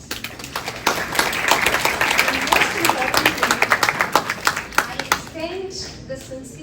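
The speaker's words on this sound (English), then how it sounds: "they deserve a huge round of applause" A conference audience at an international AI conference inauguration gives a round of applause for faculty and volunteers, a scattered burst of individual nearby claps that thins and fades toward the end, with voices talking over it.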